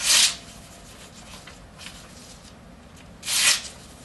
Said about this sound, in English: Now slicing paper diagonally.